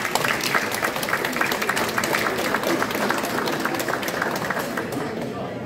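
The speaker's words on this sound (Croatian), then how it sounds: "Pozdravimo i njih pljeskom" An audience in a festival tent at a Šokci folk gathering in Gundinci applauds, dense loud clapping sustained for several seconds before thinning out at the end, with crowd murmur underneath.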